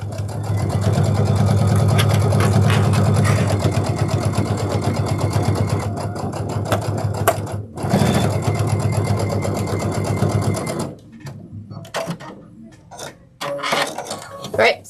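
A sewing machine top stitching a Sunsetridge backpack with a bi-level foot runs in long steady bursts, loud and continuous for most of the stretch, then stops and starts in shorter runs near the end, with a voice talking over it.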